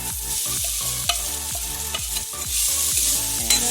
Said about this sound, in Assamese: এতিয়া এই পনীৰখিনি মই কেৰাহী এটা গৰম কৰি কেৰাহীটোত মই অলপ ঘিউ দি